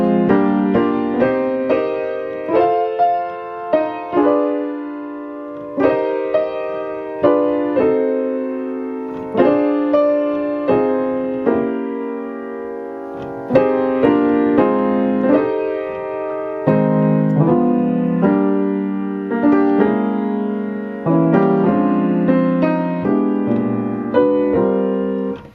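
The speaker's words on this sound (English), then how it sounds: "the right hand plays melody and chord, but the left hand, instead of playing bass line, doubles the melody" Jazz piano in locked-hands style, right hand playing melody with chords while the left hand doubles the melody; slow phrases of full block chords with pauses between, solo and clear.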